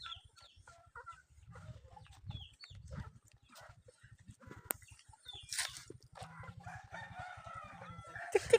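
Chickens and a fighting rooster in a yard: scattered clucks and short calls over a low rhythmic mechanical putter, with a louder crowing burst in the latter half.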